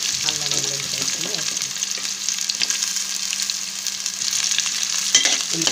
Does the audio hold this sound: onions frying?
yes